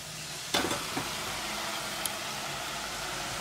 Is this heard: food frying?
yes